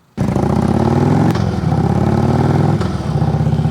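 A motorcycle engine runs loud and close with a steady throbbing drone that holds without a break, during a swerving drill practised at around 30 miles an hour.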